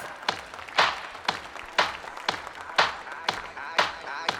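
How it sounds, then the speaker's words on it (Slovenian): Slow, rhythmic clapping at a dance show, roughly two claps per second, sharp and close, as a few hands keep a steady beat. "Kar aplavz, aplavz."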